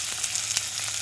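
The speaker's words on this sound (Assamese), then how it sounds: "তেল গৰম হৈ গ'ল। পিঁয়াজখিনি দি দিছোঁ" Onions sizzle in hot oil for a dry fish dish, a steady hissing fry with small crackling pops, close and moderately loud.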